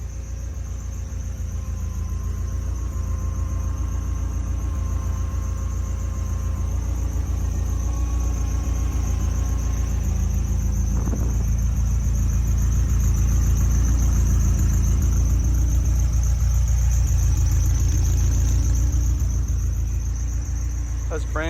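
A 1978 Ferrari 308 GTS with a new exhaust idles after a cold start, a loud, steady low rumble that swells slightly and stays even throughout, with no talking.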